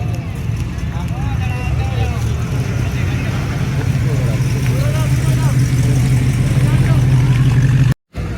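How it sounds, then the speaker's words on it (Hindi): An old car rolls past at a vintage car exhibition, its steady mid-pitched engine drone running continuously and fairly close amid crowd babble, with a brief cut just before the end. "वो एक प्यारी गाड़ी जा रही है"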